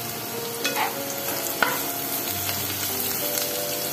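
Garlic and chillies frying in hot oil for bheja fry, a loud continuous sizzle close up with a few stirring scrapes and one sharp tap of a utensil.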